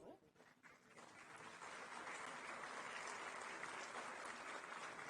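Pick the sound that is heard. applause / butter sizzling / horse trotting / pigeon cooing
applause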